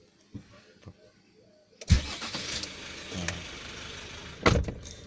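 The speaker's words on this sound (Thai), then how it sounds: "ผมสตาร์ทรถแล้วนะครับ" An MG Extender pickup starts up: a few faint clicks, then the starter cranks and the engine catches with a loud burst, settling into a steady idle with another surge near the end.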